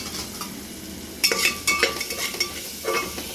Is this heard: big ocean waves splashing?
no